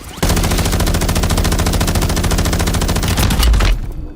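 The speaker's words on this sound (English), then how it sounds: "Who's shooting me and from fucking where, dude?" Rapid automatic gunfire in the battle royale game Warzone 3, a loud continuous burst of overlapping shots lasting about three and a half seconds before cutting off abruptly.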